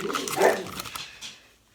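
A pet dog barks and whimpers close by in a home kitchen during cupcake baking, a short loud burst that trails off into quieter yelps.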